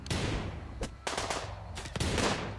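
Bursts of SMG fire in the video game Rimworld, several short rapid volleys separated by brief gaps, loud and close.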